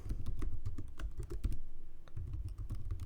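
Steady typing on a computer keyboard while retyping a heading in Excel 365, a quick, uneven patter of close, crisp key clicks that runs continuously with brief pauses.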